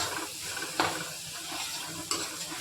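Tomatoes roasting in a pan, a steady soft sizzle broken by two brief scraping stirs, close and quiet with no voices.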